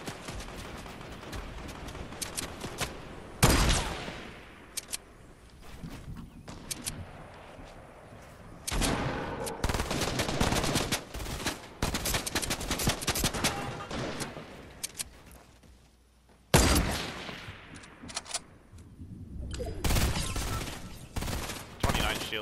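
Fortnite gunfire with sniper shots, repeated sharp cracks and bursts of shooting, some loud and close and others more distant, layered over continuous game noise.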